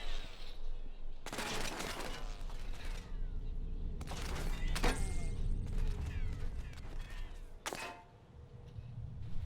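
A gun in Halo 2 firing on its own with infinite ammo: repeated bursts of loud, crackling shots at irregular intervals over a steady rumbling, mechanical game backdrop.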